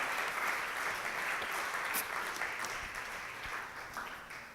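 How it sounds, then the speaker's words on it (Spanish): A church congregation applauds together during a worship service, a steady wash of clapping that holds loud for several seconds and then eases slightly toward the end. "Dele un aplauso al Señor"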